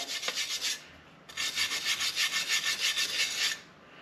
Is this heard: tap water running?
no